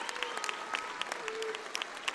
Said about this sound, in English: a standing ovation from this Lexington Minutemen crowd